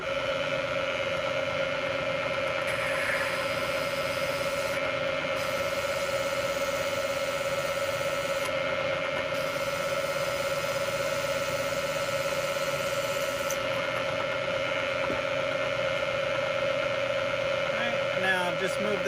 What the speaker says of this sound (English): I'm coming in with this 1/2 inch annular cutter here